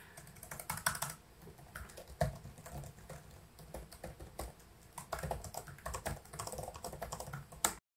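Fingers type on an MSI Sword 15 laptop keyboard, giving quick, irregular clacks and taps at close range with a few louder keystrokes, and no voices.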